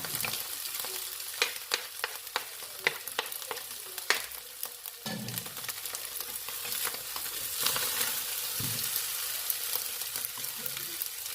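A metal spatula scoops homemade fried rice with carrots out of a wok to serve, giving a run of sharp clinks and scrapes over a steady background sizzle, fairly close, with no talking.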